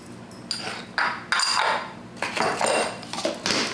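Flour, baking powder and salt are mixed in a bowl for a strawberry shortcake, giving a run of clinking, scraping utensil strokes against the bowl at close range with no voices.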